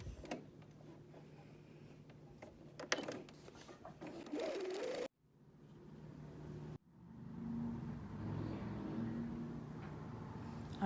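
A sewing machine stitches a canvas pencil pouch in a steady whirring run, stopping briefly and starting again, quiet and close with no talk.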